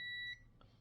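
Continuity tester beeping across stepper motor coil wires: a steady, clear electronic tone held for about a third of a second, then cut off, followed by a faint click.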